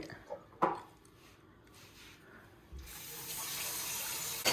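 Tap water running into a kitchen sink while dishes are washed, a steady close rush that swells louder partway through, with a person talking.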